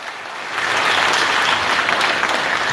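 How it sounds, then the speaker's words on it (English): Audience applause at a primary school graduation ceremony: steady clapping from many hands that starts after a brief quiet moment and then holds, full and close. "I want to give her a big round of applause for me."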